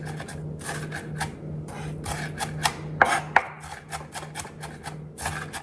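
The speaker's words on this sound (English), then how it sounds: "Make sure your garlic is kind of minced pretty well" Garlic being minced with a knife on a cutting board: a steady run of quick, close chopping taps, some sharper knocks midway, with a constant low hum underneath.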